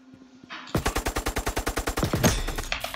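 Rapid automatic gunfire from the Roblox game Riot Fall, a loud close burst of about fifteen evenly spaced shots, then a short tail of echo.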